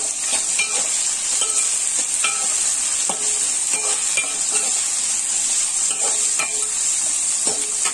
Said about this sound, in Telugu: కొద్దిగా కరేపాకు ఉల్లిపాయ మగ్గిందండి